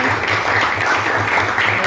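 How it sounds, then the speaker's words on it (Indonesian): A classroom full of students clapping together after a presentation, loud and continuous, with a slight rhythmic pulse and some voices mixed in. "kasih tepuk tangan"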